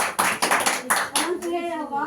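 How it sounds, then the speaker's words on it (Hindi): A church congregation claps loudly in rhythmic bursts. Several sharp rounds of clapping mix with a voice speaking, and a voice is heard near the end. "जोर से ताली बजाइए।"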